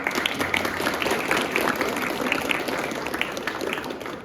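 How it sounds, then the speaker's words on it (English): A seminar audience at St Stephen's College in New Delhi gives a speaker a continuous round of applause, with dense overlapping claps at a fairly loud level that eases off slightly toward the end. "Let's have a huge round of applause for sir."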